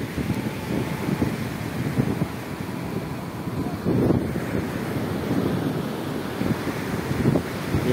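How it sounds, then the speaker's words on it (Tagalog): Sea waves wash onto the shore at Mariveles, Bataan, surging in slow swells. Heavy wind buffets the microphone throughout and partly masks the surf. "Ang ganda naman yung dagat oh."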